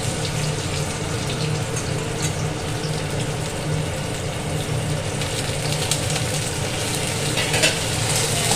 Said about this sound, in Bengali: তেল চলে এসেছে, দেব পেঁয়াজ কুচি,